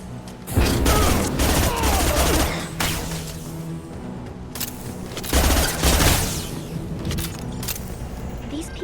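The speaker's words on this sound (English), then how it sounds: "they shoot first, so I mean, am I right to actually shoot back?" Weapons fire in the sci-fi shooter game Mass Effect 2 during a battle against the Collectors: loud repeated bursts of rapid gunfire with booming impacts, rising in two heavy volleys over a constant background din.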